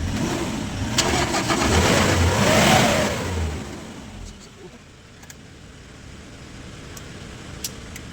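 A Kia Bongo III Euro 4 truck with a check-engine fault cranks and starts, its engine swelling in a loud rev before settling into a steady, lower idle, heard up close.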